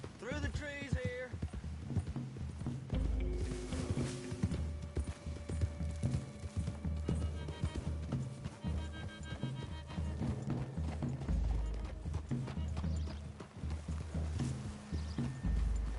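Horses trot and clop through trees in Red Dead Redemption 2, hooves beating in a brisk, uneven rhythm close by, with creaking tack, a brief whinny early on and a voice now and then.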